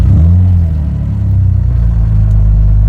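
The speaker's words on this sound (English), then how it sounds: "We're going to start up the DB4." An Aston Martin DB4 engine runs loud and close right after starting, a deep steady rumble with a slight dip and swell in level, no voices.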